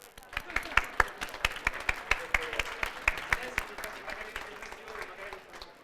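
Audience applause at a vegan food event during Milano Food Week, a small crowd clapping in a brisk, uneven rhythm with distinct individual claps standing out, moderately near and steady throughout.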